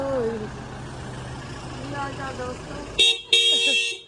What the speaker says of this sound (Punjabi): ਹਾਏ ਕਿੰਨਾ ਹੌਰਨ ਆ